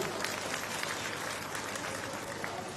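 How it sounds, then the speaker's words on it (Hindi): Steady applause from a sizable crowd at a political rally in Haryana, dense and continuous clapping that holds at an even level throughout without voices rising above it. "इनके लिए मैं जोरदार तालियों की गड़गड़ाहट से स्वागत चाहता हूं।"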